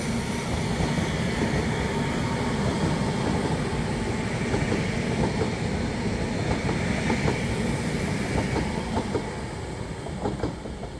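Northern Rail class 331 electric units running from Blackpool North to Manchester Airport pass at Preston with a loud continuous rumble and rhythmic wheel clicks over the rail joints, sustained throughout.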